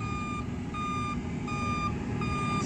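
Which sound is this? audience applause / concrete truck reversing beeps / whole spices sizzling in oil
concrete truck reversing beeps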